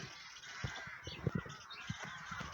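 Crows cawing from trees along an off-trail bypass walk, a cluster of harsh calls repeating irregularly at moderate distance over a steady outdoor background hiss.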